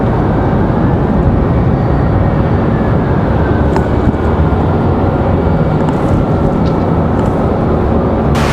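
An American Airlines airliner at Raleigh Durham airport, a loud continuous rumbling engine roar with a faint rising whine, steady from start to finish.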